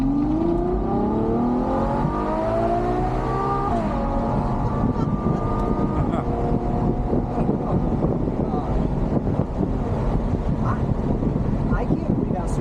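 A Ferrari GTC4Lusso driving, its engine note rising steadily then settling into a loud, continuous drone with road and wind noise, while people talk inside the cabin.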